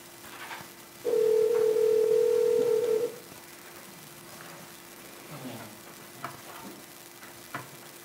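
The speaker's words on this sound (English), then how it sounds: "Stephanie, you're on speakerphone" A steady telephone dial tone sounds for about two seconds as a speakerphone call is placed during a county board of commissioners meeting, with soft room murmur and faint voices around it.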